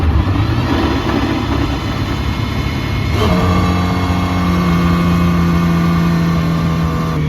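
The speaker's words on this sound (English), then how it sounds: "very mechanical sounding startup on the Valkyrie" An Aston Martin Valkyrie engine starts up with a mechanical whir, then settles into a loud, steady idle with a rising tone near the middle, heard up close.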